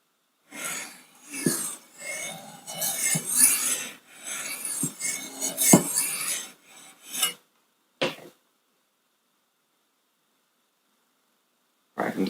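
A knife blade is sharpened on a Wicked Edge Go sharpener in a series of close, rasping strokes, a few clustered together, then quiet with a final stroke at the end.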